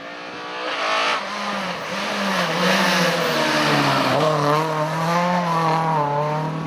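A Ford Sierra Cosworth rally car at a Northern Ireland rally championship round, its engine droning and rising as it accelerates and holds revs, loud and steady throughout with no talk.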